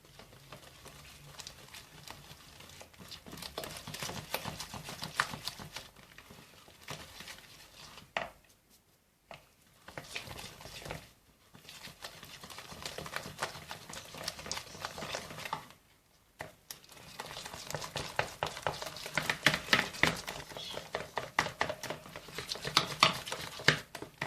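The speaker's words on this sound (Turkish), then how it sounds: "Bu şekilde hepsini çırpıyorum şimdi." Diet waffle batter is whisked in a bowl, giving a fast, busy patter of beats against the bowl. The sound is faint and close, with two short pauses before it starts again.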